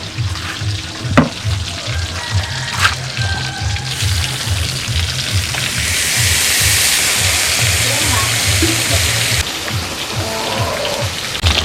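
Fish grilling over an open fire, a continuous hiss and crackle that swells louder midway, with sharp pops and a low rhythmic hum underneath.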